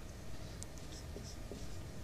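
Faint scratching of a pen across paper while writing out a maths solution, a soft continuous scribble close by.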